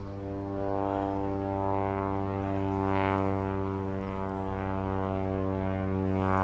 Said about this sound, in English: Plane taking off from Brookhaven Town Airport nearby.